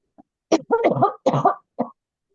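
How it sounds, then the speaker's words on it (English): Several harsh, close coughs in quick succession, a short burst followed by two more hacking coughs, with no speech in between. "I've got a cough again."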